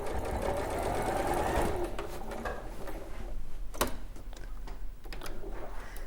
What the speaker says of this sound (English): I shall just complete that row of sewing